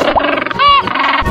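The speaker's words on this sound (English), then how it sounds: "Penguin." A penguin call in a cartoon animal sound game for kids, a short loud braying, honking squawk with a brief tonal whistle in the middle.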